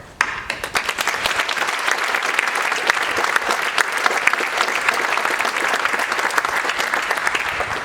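Sustained applause from a large audience at a state government awards ceremony honoring employees, dense steady clapping filling the room without a break.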